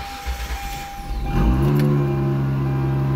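A Hyundai Santa Fe 2.7 V6 with its camshaft phase sensor unplugged cranks briefly with a whirring starter, then catches and settles into a steady, humming idle close to the microphone.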